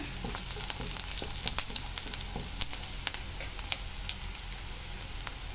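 Masala for paneer gravy frying steadily in a pan, a continuous close sizzle with scattered crackles and pops, no voices.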